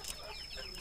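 Chickens cluck softly while pecking at feed, a faint, brief burst of low clucking close by with a quiet background hum.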